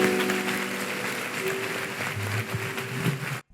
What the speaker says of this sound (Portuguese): Vamos aplaudir o nosso Deus bem forte.